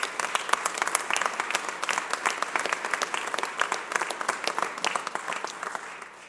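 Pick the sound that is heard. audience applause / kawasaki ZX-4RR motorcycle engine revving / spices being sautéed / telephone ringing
audience applause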